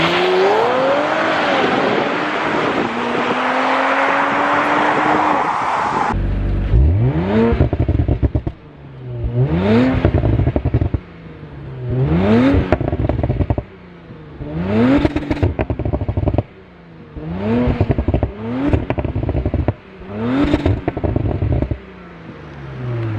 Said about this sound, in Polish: Zwróćcie też uwagę, jak brzmi z procedury ruszając.